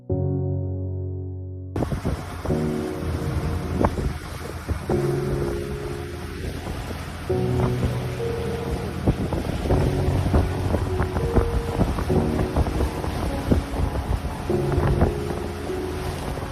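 A sailboat out on the Gulf of Mexico, with strong wind buffeting the microphone, waves sloshing against the hull, and irregular creaks and knocks from the boat throughout.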